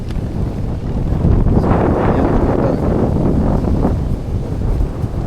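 Strong wind buffets a tent set up as a dome, roaring steadily with gusty rumbling swells and no voices.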